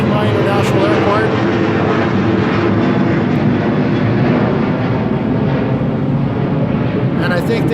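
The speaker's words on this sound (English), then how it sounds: "There's an airplane going by." A fixed-wing airplane passes overhead near Chiang Mai International Airport, a loud, steady roar of jet engine noise that fills the whole stretch without letting up.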